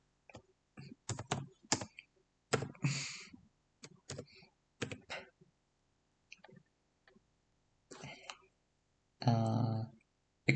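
Computer keyboard keys are pressed while working in 3D design software for a quantum chip model, making quick bursts of sharp, close clicks separated by silent gaps, with a voice briefly heard in between.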